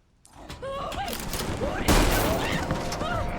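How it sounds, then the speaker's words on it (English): Enemy gunfire tears into the player during a video game fight, a rapid, fairly close volley of shots building to a loud burst, with chirpy tonal game effects threaded through. "He just shot the fuck out of me."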